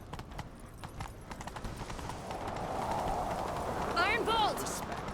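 Horse hooves galloping in The Witcher 3 video game, a rhythmic clip-clop that builds toward the end, mixed with game music, a whinny-like cry and voices.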